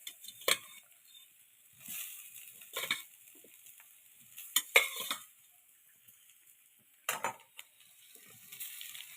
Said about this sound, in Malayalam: എല്ലാം കൂടി ഒന്ന് മിക്സാക്കി എടുക്കുക.